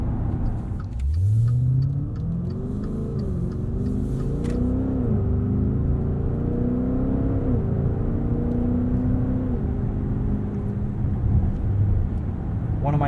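A 2021 Maserati Levante SUV engine revs with a deep, steady rumble and rising, falling pitch sweeps, loud and close, with someone talking over it.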